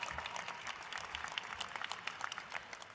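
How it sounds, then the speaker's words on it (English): Applause from a crowd at a Brooklyn College commencement, a faint steady patter of clapping heard from a distance. "Yep, round of applause."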